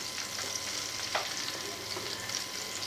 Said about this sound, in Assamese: মই একেবাৰে কম জুইত ভাজিছোঁ